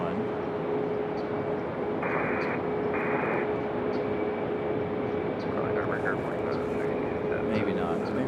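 An Airbus A321 jet airliner departing Raleigh-Durham airport sends out a continuous loud engine roar with a steady tone running through it, and a voice is heard now and then.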